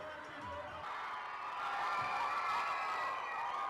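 Schoolchildren cheering after a girl is elected chief minister in a school election, a faint, distant crowd of shouting young voices rising and falling in celebration.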